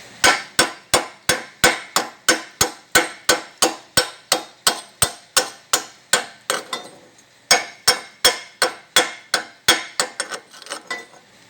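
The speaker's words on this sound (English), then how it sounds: "I gotta chip it yet. It's welded good, it's just gotta be chipped." A chipping hammer knocks slag off welded motor mounts in a rapid, even series of sharp metallic strikes, about two or three per second, loud and close, with one brief pause partway through.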